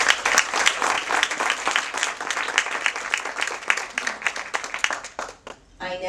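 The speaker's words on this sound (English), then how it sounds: "Please give them a big round of applause." An audience applauds at a Women's Council of Realtors officer installation ceremony, steady dense clapping filling the room for several seconds before tapering off near the end.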